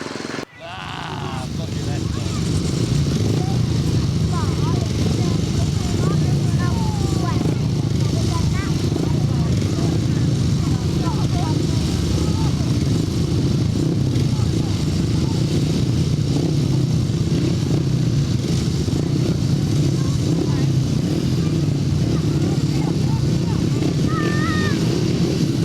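Grasstrack motorcycles tear flat out down the straight at a race meeting, a dense, continuous engine roar that starts suddenly and holds loud throughout, with an announcer's voice audible over the noise.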